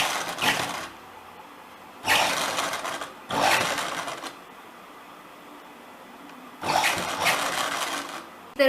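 Sewing machine stitching a back-neck blouse piece, running in four separate bursts of steady whirring with short quiet pauses between them, close and fairly loud, no talking.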